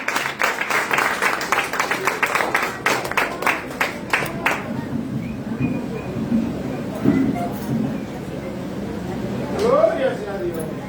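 A church congregation applauds for God after a sermon: a burst of rapid, dense clapping for several seconds that dies away into murmuring voices and room noise.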